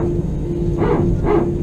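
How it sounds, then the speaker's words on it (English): The hydraulic pump on an Airbus A320 starts up: a steady mechanical hum, then two short, harsh, bark-like bursts about half a second apart. "The Airbus A320 hydraulic pump startup."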